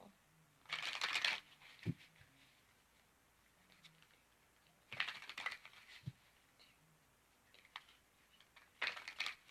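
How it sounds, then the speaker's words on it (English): Three quick bursts of playing cards being riffle-shuffled, each a crisp fluttering rattle followed by a soft tap, with quiet pauses between. "I'm going to shuffle up the cards"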